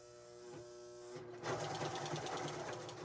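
A serger stitches fabric close by, a low motor hum for the first second before the machine picks up speed into a rapid, rattling whir that continues steadily to the end.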